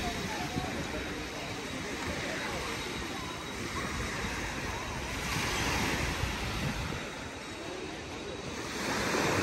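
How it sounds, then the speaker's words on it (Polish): Waves wash onto Banana Beach in Phuket, Thailand, a steady broadband surf rush with gentle swells in level, mixed with wind buffeting the microphone. "plaża, na której się znajdujemy, to jest Banana Beach"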